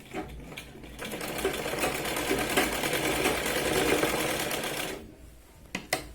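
Sewing machine stitching the shoulder seam of a Punjabi top, a fast rattling run of stitches that holds steady for several seconds, then stops, followed by a few sharp clicks of the machine.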